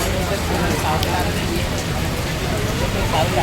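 Steady rain falls in a dense, even hiss, drenching people carrying umbrellas outdoors. The sound stays close and constant throughout, with faint voices in the background.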